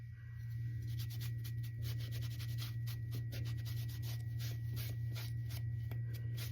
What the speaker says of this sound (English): rub a little bit of this wax on here